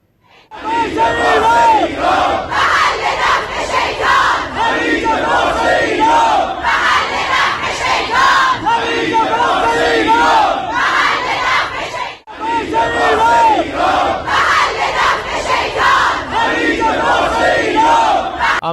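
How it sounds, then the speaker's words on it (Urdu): A large Iranian crowd in the street chants a slogan in loud, rhythmic unison, the massed voices repeating continuously with a brief dip partway through. "ایرانیوں کا یہ نعرہ ایران میں جاری مزاحمت اور استقامت کے جذبے کو ظاہر کرتا"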